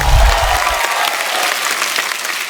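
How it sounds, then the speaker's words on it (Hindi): A studio audience on a comedy talk show bursts into loud, dense applause, a steady wash of clapping that holds strong throughout with no talking over it. "एक बार जोरदार तालियां हो जाए."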